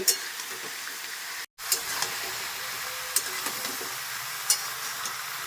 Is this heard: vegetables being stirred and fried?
yes